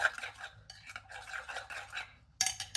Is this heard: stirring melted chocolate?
yes